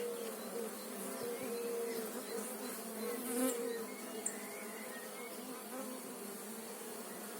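Honey bees buzz steadily around a honey frame at a hive in a beekeeper's apiary while a nucleus colony is being made, a dense continuous hum with a few brief louder passes close by.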